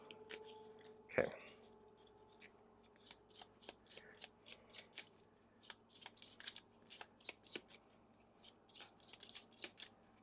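Gloomhaven game cards are riffled and shuffled by hand in a quick run of crisp, close flicks after an initial thump, with quiet talk underneath.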